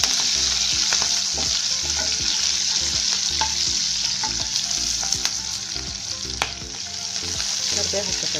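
Chili and curry leaves hit hot oil for a tempering, a loud close sizzle and crackle that holds steady, with scattered stirring clinks of a utensil against the pan.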